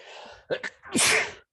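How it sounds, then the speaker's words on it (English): A single sharp sneeze with a quick breathy intake before it, close and loud, followed by silence. "I had to sneeze."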